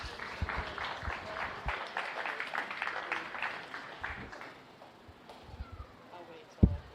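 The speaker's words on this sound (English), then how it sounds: "One more time, give these kids a big round of applause." Scattered applause from a county fair beef show crowd for the kids, light and uneven, with talk and announcer voices mixed in and a sharp knock near the end.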